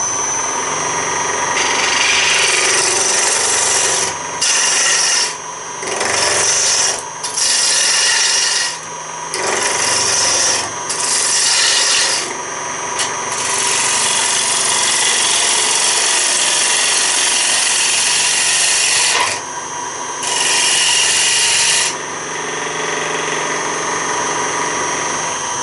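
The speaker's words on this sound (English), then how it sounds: "I'm going to go ahead and make a tenon, define a tenon on here." A wood lathe spins a wood blank while a tool cuts a tenon. A steady rasping scrape rises and falls in repeated passes over the constant hum of the machine, with brief lulls between cuts.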